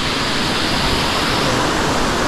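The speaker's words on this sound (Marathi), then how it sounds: "आणि या साईडून नदी आहे छोटी." A small river rushing near a waterfall in Chiplun, Konkan, heard as a loud, steady, broadband roar of flowing water that runs without a break.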